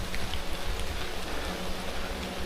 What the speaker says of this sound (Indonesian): karena di samping itu juga hujan